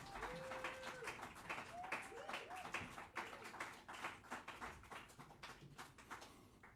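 A small audience at Hermann's Jazz Club applauds drummer Damian Graham with brisk, uneven clapping, faint and thinly spread, with a few whistles rising over the claps.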